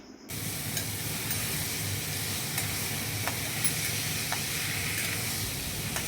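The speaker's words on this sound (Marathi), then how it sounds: "डाळ टाकून परतून घेणे व मीठ टाकणे" Soaked moong dal sizzles steadily in a hot pan with oil and coarse chili, a dense continuous frying hiss with faint scraping stirs throughout.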